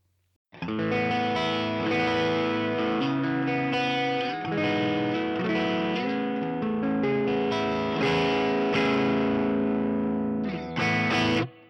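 Distorted electric guitar chords ring out loud and full through a cabinet impulse response at the Cap Edge 08 mic position, strummed in a slow progression with sustained notes and a short final stab, no voices.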